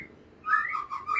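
A bright, whistled song of a white-rumped shama with a few rising and falling phrases, fairly clear over a quiet background.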